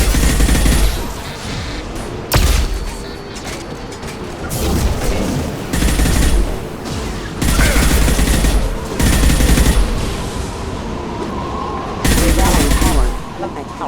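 Gunfire in the Mass Effect 2 shooter game, loud bursts of heavy automatic fire and booming impacts in repeated volleys separated by brief lulls, with combat noise filling the background.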